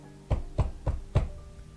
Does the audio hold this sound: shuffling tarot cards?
no